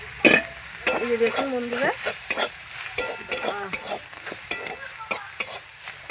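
Cumin and spices frying in a pan, stirred with repeated scraping taps and a low sizzle close by, while a voice speaks briefly over it.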